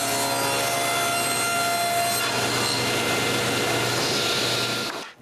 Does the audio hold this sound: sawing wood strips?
yes